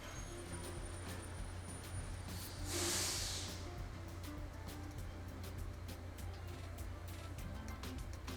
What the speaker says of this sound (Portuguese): Peço desculpa a vocês pelo barulho, tá passando muito carro, muita moto.